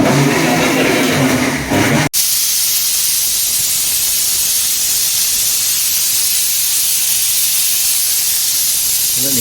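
A pressure cooker releases a loud, steady rush of hissing steam, briefly broken and then continuing as a softer, even hiss to the end.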